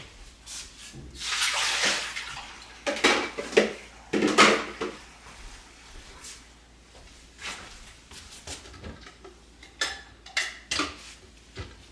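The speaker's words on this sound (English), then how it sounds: "So I'm going to use our fresh apple juice. Dump this." Fresh apple juice poured out in a kitchen makes a few splashy gushes of liquid, separated by quieter gaps with light clinks of dishes and utensils nearby.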